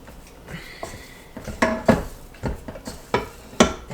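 Stroopwafel dough being mixed back together in a bowl, with a series of close clinks and scrapes of a utensil against the bowl at an uneven rhythm, without any talk.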